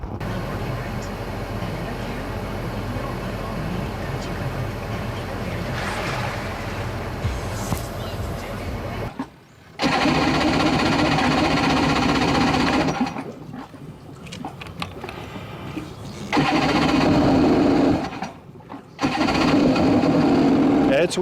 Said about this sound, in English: I'm gonna back up into the water to provide proper cooling for the engine and try to start it